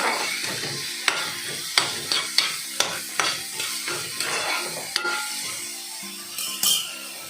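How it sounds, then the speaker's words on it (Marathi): Onions roast in a pan with a soft continuous sizzle, punctuated by a regular series of sharp utensil scrapes and knocks against the pan as they are stirred, close by and without speech. "कांदो न्ही आमी भाजून घेऊया"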